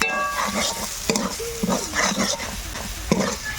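Chopped tomatoes and a little dry chili powder stirred in a pan of hot oil, a steady close sizzle with scraping stirring strokes, no talk.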